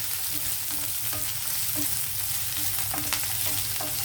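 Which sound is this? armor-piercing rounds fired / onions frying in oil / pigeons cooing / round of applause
onions frying in oil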